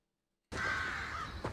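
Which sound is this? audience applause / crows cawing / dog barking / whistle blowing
crows cawing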